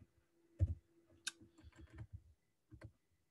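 Sparse clicks of keys on a computer keyboard while writing a routine in ABB RobotStudio, a handful of quiet, irregular taps spread over a few seconds with no talking.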